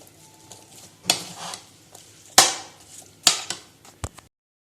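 Fruit chaat being stirred with cream in a bowl, a few separate scraping and clinking strokes of a spoon against the bowl, spaced irregularly and fairly close.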